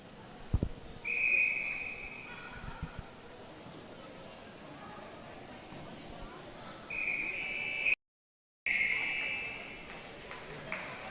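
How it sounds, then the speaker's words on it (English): Referee's whistle at a netball match, two shrill blasts, one short and one longer, over a busy arena crowd and commentary voices. "that's the final whistle"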